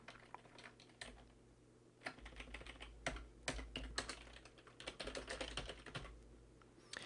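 Fingers type C program code on a computer keyboard in a steady stream of quick, close key clicks, with short pauses, over a low hum and no speech.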